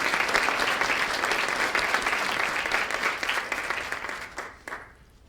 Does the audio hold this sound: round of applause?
yes